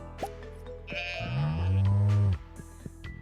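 Sheep in the Stardew Valley farming game bleat once in a long, wavering cry, clear and close over a steady background of game music and ambience.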